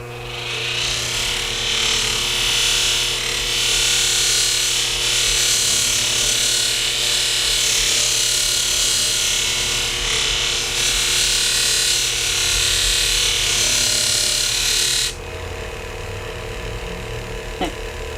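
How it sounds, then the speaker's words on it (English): A shear blade edge rubs steadily against a sharpener in a loud, continuous abrasive grind over a low motor hum, stopping abruptly near the end while the hum carries on. "I can polish all the way to the edge"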